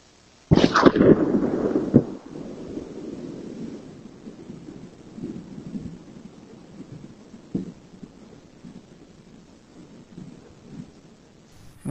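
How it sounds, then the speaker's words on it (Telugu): Distant boom from the Hunga Tonga volcanic eruption recorded in Alaska: one sudden loud blast followed by a long rumbling roll that slowly fades, with a few later faint thuds. "ఇది హుంగాటొంగ వాల్కనో పేలినప్పుడు వచ్చిన సౌండ్"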